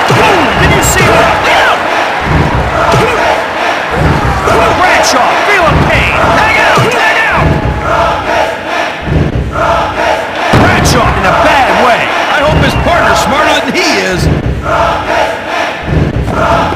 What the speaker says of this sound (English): This crowd is pumped up! They are jacked!